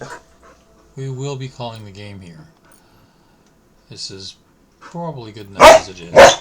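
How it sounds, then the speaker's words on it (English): Bob the dog lets out two loud, sharp barks close by at the very end, after someone talks calmly over a quiet background. "That was my dog Bob, who wants attention."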